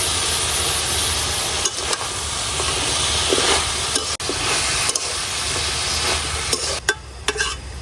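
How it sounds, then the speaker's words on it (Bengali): Radish green stems stirred and frying with dried fish in a pan, a steady loud sizzle and hiss with repeated scraping stir strokes throughout, no talking. "শুটকির সাথে ডাটাগুলা ভালো করে উল্টায় পাল্টে এখন ঢাইকা 2-1 মিনিটের মতো একটু কষাই নিলাম"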